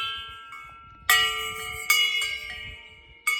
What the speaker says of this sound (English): Out here by the wind chimes that Mark says Dad made from pipes from the